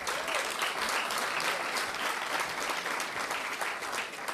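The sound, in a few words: audience applause for Lisa LaFlamme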